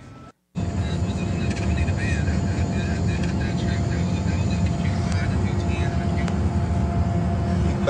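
Steady broadband cabin roar inside a private jet in flight, loud and continuous after a brief silence at the start, with no talk over it.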